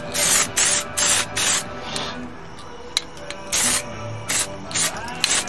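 Bed liner is sprayed in light coats onto trim, with repeated short bursts of hissing spray separated by quiet gaps, loud and close.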